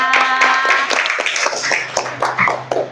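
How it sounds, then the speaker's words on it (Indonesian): A small group of people claps hands in quick, uneven bursts, close and fairly loud, mixed with voices and a tonal background sound. "Tepuk tangan dulu, Ge, buat Abang Komang ya."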